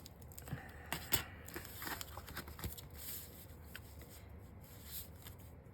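Scissors snip through junk mail paper scraps close up, with crisp crinkling cuts and rustling paper in an uneven rhythm, quiet throughout.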